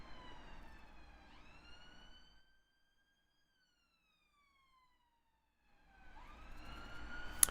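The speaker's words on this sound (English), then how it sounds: "God damn it, police cars." Police car sirens, rising and falling wails heard faint and distant, fading out to silence midway and then returning louder near the end.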